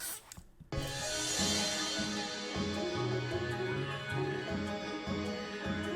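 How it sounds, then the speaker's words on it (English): Trance-style rhythmic synthesizer stabs pulse steadily over a bright, sustained electronic pad, in a loud, full dance-music texture with no voices. "trancey synth stabs that are here."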